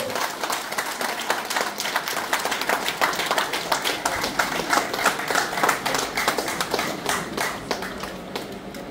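Audience applause welcoming a company manager from Fincop Group onto the stage at an event: dense, sustained clapping from a crowd, steady and fairly loud throughout with no break.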